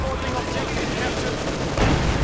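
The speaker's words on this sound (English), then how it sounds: "I'm sure their eardrums are gone from that explosion" A heavy explosion booms out in the WWII strategy game Company of Heroes 2, a sudden loud burst rising out of continuous battle din of gunfire and artillery.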